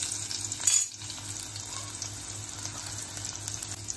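Garlic is dropped into hot oil for a fish curry. There is a brief loud hiss as it goes in, then a steady, quiet sizzle. No one talks.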